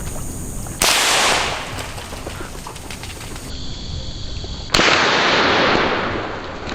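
Two loud, sharp rifle gunshots crack out outdoors during a wild boar hunt, each followed by a long fading tail.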